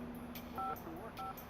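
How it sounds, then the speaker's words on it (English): Two short electronic dial tones on a cell phone as a number is entered, clean and evenly spaced over a faint low hum. "Campbell used David Gantt's cell phone to call him at Loomis and set up a meeting time"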